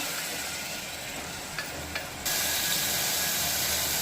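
Tomato paste sizzling in a pan for tomato biryani, a steady broadband hiss running throughout with two faint stir clicks midway before the sizzle swells louder and brighter in the second half, no voices present.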